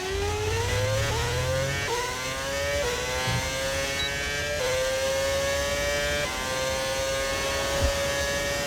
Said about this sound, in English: We're going to have a V8 engine for the rest of this lap.